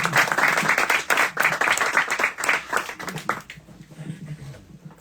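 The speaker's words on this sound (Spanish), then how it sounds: "le vamos a dar un aplauso muy grande" An audience at a book presentation in La Felguera claps loudly and densely for about three seconds, then the applause thins out and fades away.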